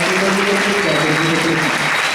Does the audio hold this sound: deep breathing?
no